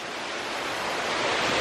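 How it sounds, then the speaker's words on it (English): Waterfall at Animal Kingdom theme park, a steady broad rushing hiss of falling water, fairly faint and unbroken with no talk. "I'll try to talk over the waterfall a bit."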